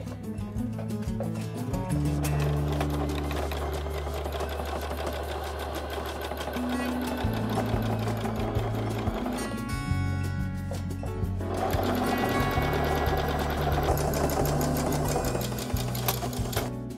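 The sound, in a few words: sewing machine stitching a coat collar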